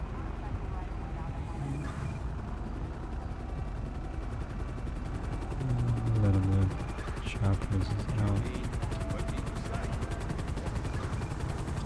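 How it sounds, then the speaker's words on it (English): Helicopter rotor drone from GTA 5, steady and loud throughout, with bursts of gunfire around the middle; no one speaks. "Chopper is out."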